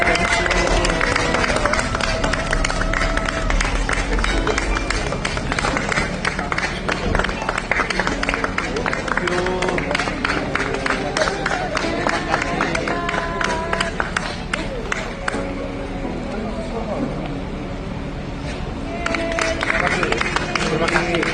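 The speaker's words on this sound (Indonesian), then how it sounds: "Beberapa supporter timnas yang ada di hotel tetap memberikan aplaus dan semangat untuk pemain timnas Indonesia." Indonesian national football team supporters at a hotel give the players a loud, steady round of applause, dense clapping running continuously with crowd murmur and voices mixed in throughout.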